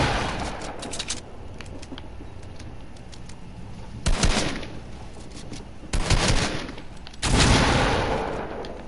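Video game gunfire comes in sharp bursts: a few quick shots early, then three heavy volleys spaced a couple of seconds apart, loud and close, with quieter gaps between.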